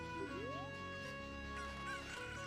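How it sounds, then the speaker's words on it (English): Chickens cluck in the video game Ocarina of Time Randomizer during the ranch chicken-collecting task, with short clucks and a rising squawk set over steady game music. "Getting Talon's chickens."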